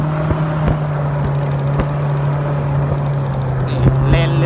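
A speedboat engine drones steadily on open water near Wat Khun Samut Chin, a constant low hum with wind and water noise, while someone talks over it.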